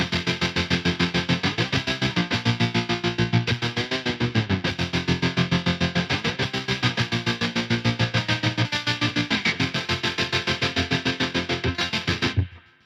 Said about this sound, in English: I'm going to try and get it to do some slicing with a distortion.